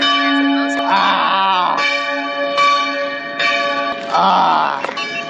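Church bells ring in Hodoš, Prekmurje, a loud sequence of clanging strokes with long, shimmering overtones that overlap and decay between hits, heard close and without talk.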